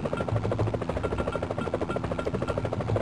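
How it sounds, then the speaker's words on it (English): A steady, continuous helicopter rotor thrum with fast rhythmic chopping from a Putt-Putt video game, loud and unbroken throughout, sounding synthesized like a game effect. "can we just take a moment to appreciate that Putt-Putt is a helicopter now?"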